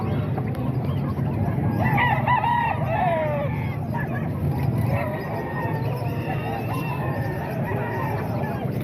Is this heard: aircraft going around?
no